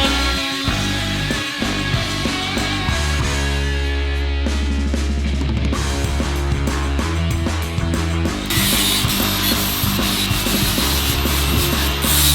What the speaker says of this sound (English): Oscillating tool allows you to plunge cut, get everything done, and then you can just smooth it out later.